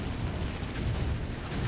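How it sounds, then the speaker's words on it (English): The Eldritch Spire blows up in the Dawn of War: Ultimate Apocalypse strategy game, giving a dense, continuous roar of heavy blasts and rumbling battle noise that fills the whole moment. "The Eldritch Spire explodes for double explosions."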